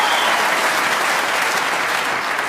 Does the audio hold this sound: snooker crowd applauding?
yes